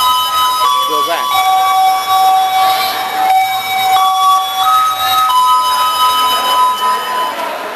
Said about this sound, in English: You hear the bell.